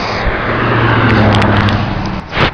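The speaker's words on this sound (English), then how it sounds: "here comes the bus" A bus rumbles in nearby with a heavy, low engine drone that holds steady, then drops away as it pulls up, followed by a brief hiss.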